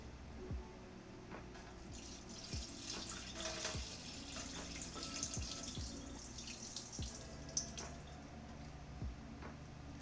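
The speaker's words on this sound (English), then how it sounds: "Wash the rice." Rice is washed under a running kitchen tap, a quiet steady stream of water with soft splashing and scattered drips, heard alone without voices.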